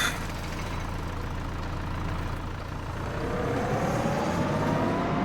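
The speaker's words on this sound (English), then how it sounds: "Oh, I left the other tractor running." A tractor engine in Farming Simulator idles steadily in the background, a constant low mechanical drone with a faint rising whine toward the end and no voices.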